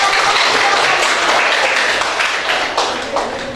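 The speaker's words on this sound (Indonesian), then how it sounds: "Tepuk tangan untuk kelompok" Applause from a classroom group in a university teacher-training session, a dense, steady patter of many hands clapping together that gradually tapers off toward the end.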